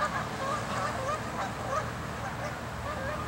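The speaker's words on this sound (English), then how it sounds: "go check out some geese over here." A flock of geese honks steadily at a park pond, calls repeating over a continuous outdoor background with no one speaking.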